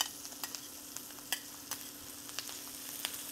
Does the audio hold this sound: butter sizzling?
yes